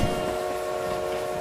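In the mobile shooter BGMI, an in-game train rolls past with a steady mechanical rumble and a sustained tonal hum. It runs evenly and fairly quietly through the whole short stretch, with no talk over it.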